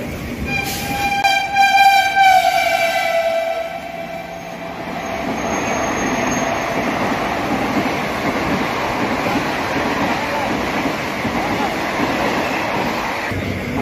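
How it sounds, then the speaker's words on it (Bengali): A local train on the Bardhaman to Sealdah line leaves Agarpara station. A loud horn blast opens, then the carriages rumble and rattle steadily on the tracks as the train picks up speed. "আমাদের ট্রেন এইমাত্র আগরপাড়া স্টেশন ছাড়ালো।"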